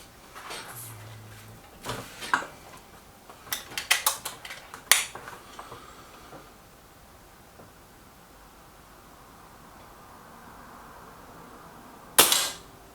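Air rifle shots from a Reximex Myth or Kral Puncher Maxi, a series of sharp cracks and target clacks clustered early, then quiet, and one final loud shot near the end.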